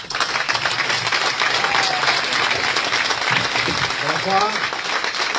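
Audience claps steadily for the presenter at an election campaign launch event, a thick continuous wash of applause, and a voice briefly greets the room near the end.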